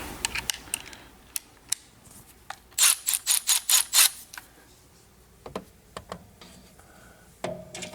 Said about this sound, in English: Let's just break it loose with our ratchet.